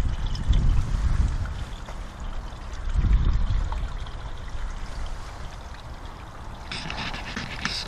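Water runs steadily along an outdoor NFT hydroponic channel built for growing beans and peas, a continuous trickling and pouring wash close by with a few louder surges and no talking.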